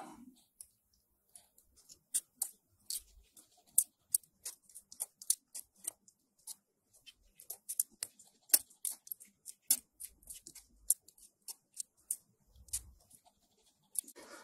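Small cutting tool snips pieces for a metal model tank track, giving many crisp, light clicks in uneven quick runs, close and quiet against near silence.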